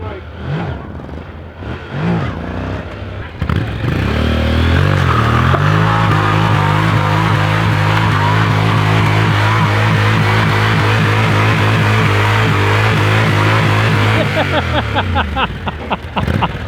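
A rebuilt 1999 Harley Davidson Dyna motorcycle cranks and fires after a few quiet seconds, then runs a loud, steady, throbbing V-twin idle close by for about ten seconds before cutting back down.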